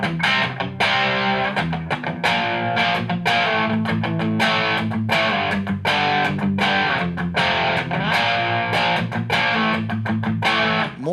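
An electric guitar plays through stacked distortion pedals with the super overdrive switched off, giving a gritty, grungy rock tone in strummed chords and short riffs with brief choked gaps between phrases.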